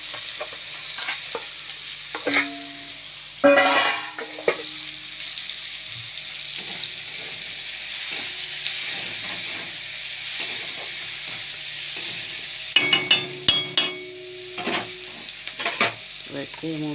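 Onions frying in hot oil in a pan, with shrimp that were fried earlier, give a steady close sizzle. Short bursts of stirring and clattering break in now and then, and no one speaks.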